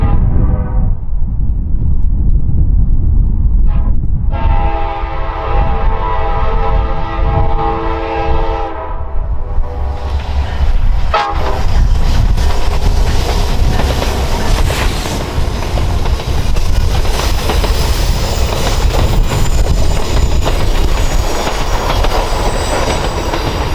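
The northbound Alaska Railroad Coastal Classic passenger train passes Beluga Point at close range: a loud sustained horn blast, then a heavy rumble with rhythmic clickety-clack of wheels and some squealing, steady and near throughout.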